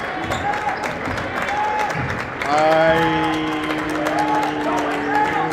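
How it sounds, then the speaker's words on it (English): Crowd at a boys varsity high school basketball game claps steadily for the Eagles, a broad wash of applause from the stands with shouts and whistles mixed in, swelling midway, while a commentator talks over it. "The clapping you're hearing is not from the Wolverines for taking care of the ball. It's for the Eagles, not even getting a shot on."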